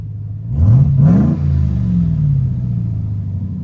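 A RAM TRX pickup with its exhaust tailpipe tips removed revs hard, the engine rising in a loud deep rumbling sweep, peaking twice, then settling into a steady throaty idle, close and alone.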